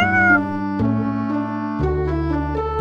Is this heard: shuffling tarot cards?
no